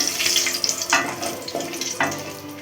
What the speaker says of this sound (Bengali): এবার দিচ্ছি আমি 3-4টে শুকনো লঙ্কা